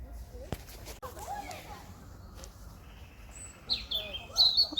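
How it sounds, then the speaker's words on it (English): Birds chirp and call outdoors, faint at first and growing clearer toward the end, with a few soft knocks and rustles in between. "listen to the birds"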